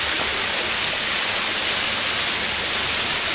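Near a waterfall in Vientiane, Laos, water pours in a dense, constant rushing roar that is loud and close, with no break or change.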